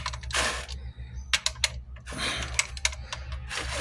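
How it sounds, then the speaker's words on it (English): A socket wrench loosens the drain plug on a 2019 Honda Pilot during a transmission fluid flush, giving quick bursts of close metallic ratcheting clicks and rattles over a low, steady hum. "Little socket wrench. And loosen it up."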